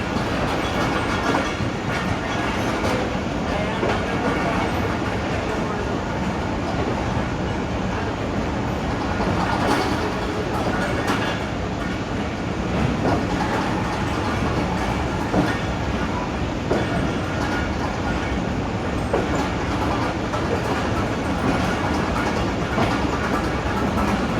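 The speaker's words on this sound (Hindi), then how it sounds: "Lahore railway station platform number 5 से अवाम एक्सप्रेस का डिपार्चर हो चुका है।" Awam Express passenger train pulling out of platform 5 at Lahore railway station, a steady, loud rumble of wheels and carriages with continuous clickety-clack over the rails, heard up close throughout.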